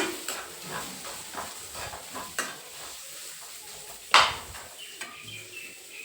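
Carrot frying in a pan while cooking palak rice, giving a soft, steady sizzle with light stirring scrapes and one sharper clack partway through, no talking.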